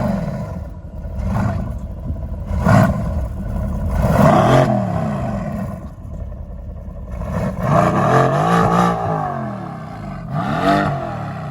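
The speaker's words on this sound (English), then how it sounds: "this does have the AMG performance exhaust system, and they sing beautifully" A Mercedes-AMG GT C's AMG performance exhaust revs repeatedly, deep roaring surges rising and falling in pitch, loud and close with a burbling idle between blips.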